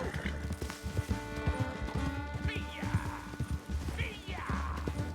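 Horse hooves clip-clopping at a steady gallop while riding in Red Dead Redemption 2, a rhythmic close pattern with music in the background and a couple of brief higher sounds.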